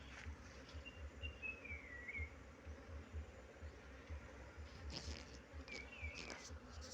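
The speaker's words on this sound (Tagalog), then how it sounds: "daming bubuyog." Many honeybees buzz steadily in a dense, continuous drone at a honeybee farm, with occasional louder individual bees passing close by against the constant swarm hum.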